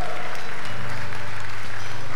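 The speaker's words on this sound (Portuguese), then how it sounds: "Dê um aplauso a Jesus." A short, close burst of steady clapping from a church congregation, dense and even throughout.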